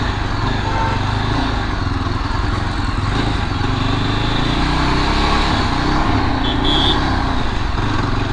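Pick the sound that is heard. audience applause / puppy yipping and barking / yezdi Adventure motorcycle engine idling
yezdi Adventure motorcycle engine idling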